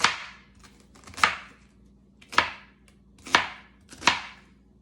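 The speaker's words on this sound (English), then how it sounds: "I'm just basically gonna give it a little chop." A knife chops onion on a cutting board for bubble and squeak, landing five sharp, evenly spaced thwacks about a second apart. Each blow is loud and close with a brief ringing decay, and nobody speaks.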